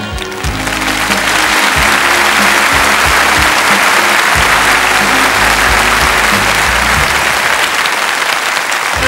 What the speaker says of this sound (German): jetzt kann bei unserem dicken Charlie nur noch ein großer Applaus helfen